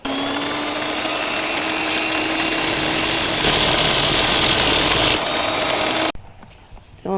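Power sander working a surface with coarse 50 grit abrasive toward a mirror shine, a loud steady whirring grind that rises in intensity midway, then cuts off abruptly near the end, leaving quieter handling noise.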